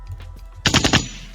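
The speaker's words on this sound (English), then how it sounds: "My gunshots aren't working anymore." A burst of rapid gunshot sound effects, four or five sharp cracks fired in quick succession, loud and close after a brief quiet lead-in, with no talk.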